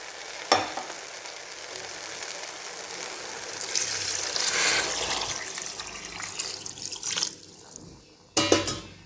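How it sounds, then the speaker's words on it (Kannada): Four glasses of water poured into a pot of broken wheat, moong dal and vangibath powder for bisibelebath, a steady splashing rush with sizzling and a few clanks, building then fading, with no talk. "4 ಲೋಟ ನೀರು ಹಾಕ್ತಿದ್ದೀನಿ."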